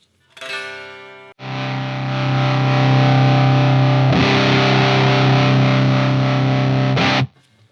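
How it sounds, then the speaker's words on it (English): Electric guitar played through a Bardic Audio Devices HM Demon distortion pedal: a short clean plucked figure, then a loud, thick, heavily distorted chord held for several seconds, struck again mid-way before cutting off. "the distort control allows us to set our overall output of our distorted signal, the signal that gets distorted and then goes out of the pedal"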